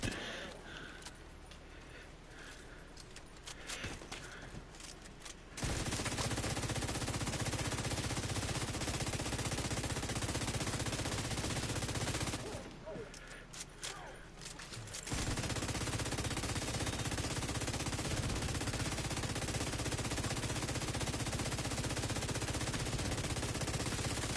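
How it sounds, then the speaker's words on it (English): Sustained automatic gunfire in the shooter The Division 2: two long, loud unbroken bursts of rapid shots with short quieter gaps between them and brief talk during the pauses. "Shoot him in the leg!"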